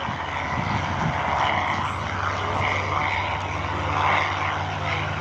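A B-17 Flying Fortress bomber named Yankee Lady drones overhead at an airshow, its radial piston engines and propellers giving a steady, loud, continuous rumble that swells slightly as it passes.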